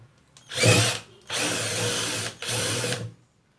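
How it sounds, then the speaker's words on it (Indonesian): A power drill boring ventilation holes in an animal shipping box, three separate bursts of whining motor and cutting noise, each about a second long, with short pauses between and no talk. "mari kita bor. Kita buat sirkulasi."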